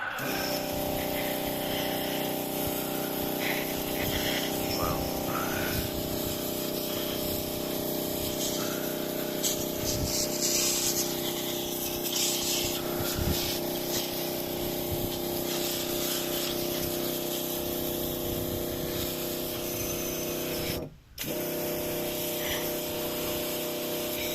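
A mobile pressure washer cleaning station sprays a steady, low-pressure stream of water onto a car strut, a continuous hissing spray with a pump hum that cuts out briefly near the end, close and fairly loud.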